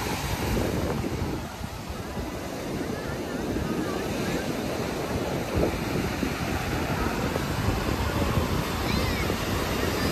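Sea waves wash onto Puri beach at dusk in a steady, loud roar of surf, with heavy wind buffeting the microphone throughout.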